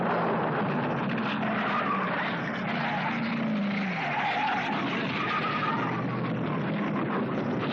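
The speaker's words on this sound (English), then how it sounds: "The front end of it has skittered all the way down to the run-out area." An NHRA drag race car that has split in half skids and scrapes down the track, a loud, continuous roar of sliding friction and tire squeal lasting several seconds with no talk over it.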